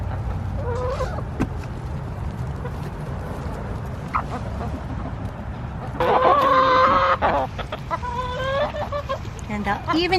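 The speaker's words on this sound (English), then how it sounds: "Chickens love mealworms. They'll go crazy for them." Backyard chickens cluck and squawk eagerly while waiting for mealworms, several birds calling close by in bursts that grow busier and louder partway through, over a low steady background.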